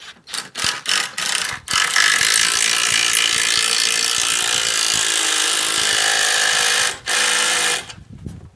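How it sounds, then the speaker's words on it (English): Impact driver driving a bolt into a garden gate: a few short ratcheting bursts open it, then one long sustained hammering whir, a brief pause, a final short burst, and the tool spinning down, close and loud. "Next, impact driver, bolt, and screw."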